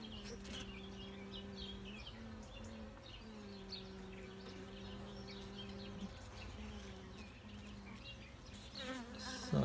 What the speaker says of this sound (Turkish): Yerli ırk bu arı.